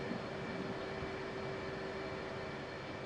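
An F/A-18C Hornet jet taxiing in the DCS flight simulator game, a steady, loud cockpit engine hum and whine holding unchanged from start to finish.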